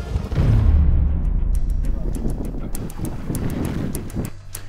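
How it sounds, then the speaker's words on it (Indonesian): Strong wind buffeting the microphone on a fishing boat in the Alas Strait off West Sumbawa, a loud roaring rumble that eases slightly, with faint clicks and knocks throughout. "Angin yang bertiup semakin kencang"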